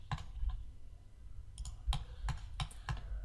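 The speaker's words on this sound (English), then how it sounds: "I'm just going to start clicking points around the perimeter of this roof." A computer mouse clicks out points while a roof outline is drawn in 3D modeling software, sharp light clicks arriving at an uneven pace, close and fairly quiet.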